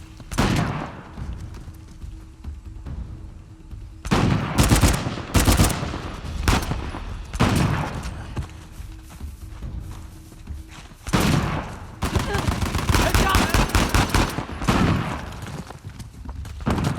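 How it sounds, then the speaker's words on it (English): Gunfire in the action video game Uncharted: The Lost Legacy, with shotgun blasts among repeated loud bursts of shots and heavy thuds. "Watch the shotgun!"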